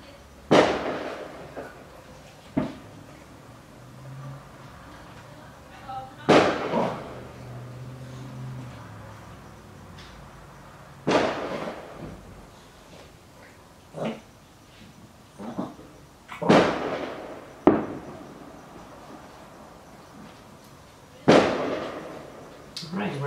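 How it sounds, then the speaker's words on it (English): Fireworks go off outdoors as sharp, loud bursts and booms at irregular intervals of a few seconds, with dogs present and people talking quietly between the blasts. "Even though there are fireworks still going off"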